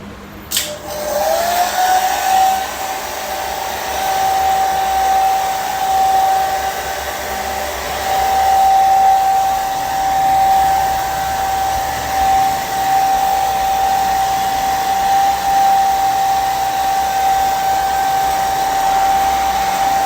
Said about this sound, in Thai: นี่ก็เป็นเครื่องเป่าลมร้อนนะครับ ใช้พัดลมช่วยด้วยนะครับ